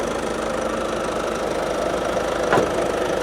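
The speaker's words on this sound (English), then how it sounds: "Let's hear the engine sound" A 2016 Ford Kuga with 150,000 km idles steadily, giving a constant mid-pitched hum close by with one brief sharp tick near the end. No one speaks.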